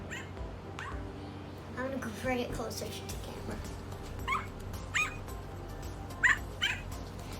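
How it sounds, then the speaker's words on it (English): Dog barks and yips from a pushed paw on a Build-A-Bear plush dog, heard as short bursts in the latter half, close to the mic, mixed with a person talking. "I made dog noises for his little paw push."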